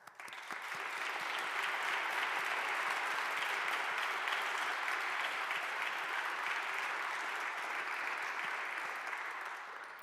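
A hall audience at an honors convocation applauds, a dense, even wash of clapping that swells in quickly, holds for several seconds and tapers slightly at the end.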